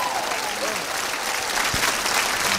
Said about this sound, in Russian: аплодируем для вас